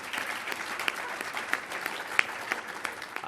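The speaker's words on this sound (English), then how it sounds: "They deserve a round of applause." A round of applause from an audience at a New York City event with the mayor, made of sustained, moderately distant clapping with scattered sharper individual claps and no speech over it.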